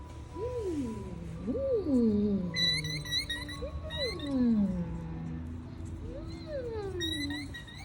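Shrill, high peeping chirps from a baby chick come in short clustered bursts while a person talks in a gliding, sing-song voice underneath.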